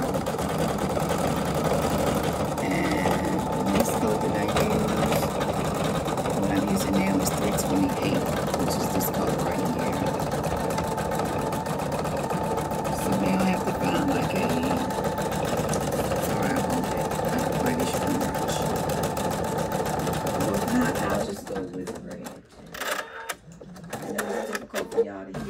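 An embroidery sewing machine running steadily with a continuous mechanical hum and rapid stitching rattle, close and even for most of the stretch before it stops and quieter handling noises follow.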